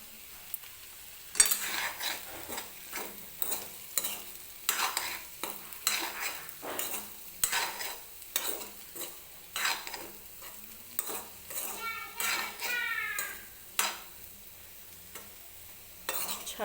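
Potato vegetable being stirred in oil in a pan with a spatula, a steady run of scraping, clattering stirs over a soft sizzle, close and fairly quiet, with no talking.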